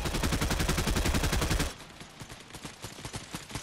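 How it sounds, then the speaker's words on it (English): Rapid automatic gunfire in the Fortnite video game, loud dense bursts that cut off abruptly and give way to quieter, more distant repeated shots, with no talking. "Somebody else is shooting me."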